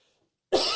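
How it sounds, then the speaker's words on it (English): A single sharp cough bursts in after half a second of silence, close and loud, from a man with a lingering illness. "Sorry for the incessive coughing."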